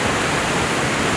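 A steady, roaring rush of a waterfall in the Faroe Islands, broad and constant, close by with nothing else audible.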